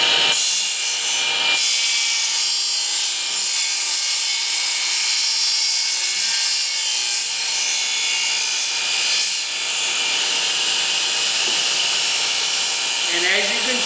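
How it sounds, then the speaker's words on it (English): A saw takes a light skim cut across the back corner of a wooden jig, fence locked down, giving a steady, loud high-pitched whine that runs nearly unbroken and close by. "Lock my fence down, and we're going to take a skim cut."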